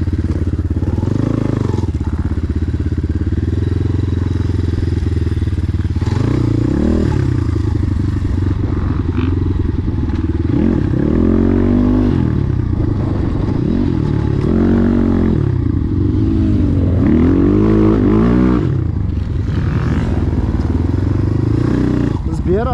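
A Barton 300 motorcycle engine runs loud and close throughout, repeatedly revving up and falling back in rising and dropping swells, with clattering mechanical noise and people talking over it.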